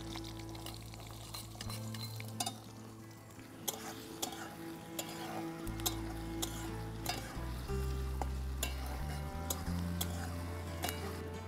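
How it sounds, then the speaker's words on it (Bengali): Chopped onion frying in hot oil while being stirred, a steady close sizzle under a low hum, with occasional sharp scraping ticks of the utensil against the pan. "পেঁয়াজ কুচিটা পুরোটাই দিয়ে দেব।"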